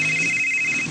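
A cellphone rings with a steady electronic tone that holds through the whole second over a faint background hum, and no one speaks.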